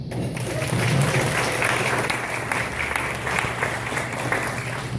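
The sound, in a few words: applause from wedding guests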